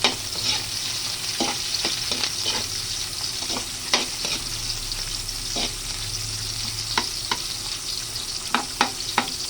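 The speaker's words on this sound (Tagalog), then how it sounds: "Nilagay na natin yung ating sibuyas." Onions and hotdog sautéing in a pot for sopas, a continuous close sizzle broken by sharp clanks and scrapes of a utensil against the pot, with no talk.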